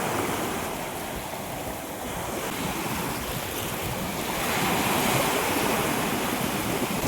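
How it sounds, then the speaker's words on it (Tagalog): Ocean waves washing onto an island shore facing Mindoro, a continuous broad roar of surf with wind, swelling louder toward the end, no voices. "Sarap pakinggan ng alon."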